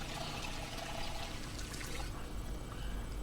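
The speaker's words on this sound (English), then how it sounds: "Let's fill our water bottle first." Water pours steadily into a water bottle in the zombie survival game Project Zomboid, a continuous rushing trickle that holds at an even level throughout, with no talking.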